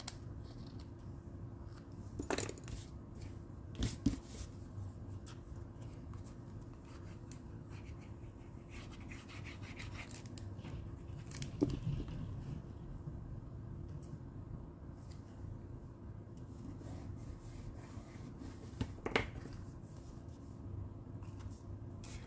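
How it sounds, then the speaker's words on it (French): An old craft blade slices through cardstock in a quiet room, giving a few faint, brief scraping strokes spaced several seconds apart over a low steady background hum. "la meilleure façon de le couper, c'est vraiment avec une vieille lame puis directement plutôt qu'à l'endos"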